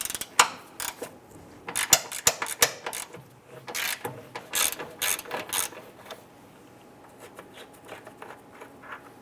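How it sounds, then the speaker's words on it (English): A 13mm socket ratchet loosens a bolt on the AC condenser of a 2002–2008 Dodge Ram, giving close, quiet bursts of rapid pawl clicking with short pauses between strokes and no talk. "Use your 13mm socket to loosen and remove this bolt right here."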